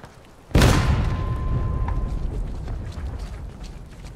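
Artillery cannon firing in the Civil War game War of Rights, one sudden loud boom followed by a long rolling rumble that fades slowly, with faint mechanical noise underneath.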